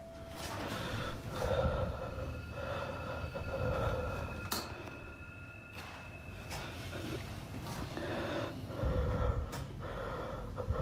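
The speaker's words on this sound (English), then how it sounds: "Quit breathing in the mic." Heavy breathing close to a microphone, with breathy rushes and snort-like puffs recurring throughout over a steady background of other sound.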